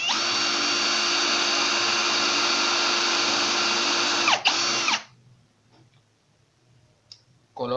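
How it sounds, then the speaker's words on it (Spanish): An electric screwdriver countersinks wood or MDF with a loud, close, steady high whine for about five seconds, then stops, followed by faint handling clicks and a short final burst. "Coloquen a la potencia adecuada su destornillador."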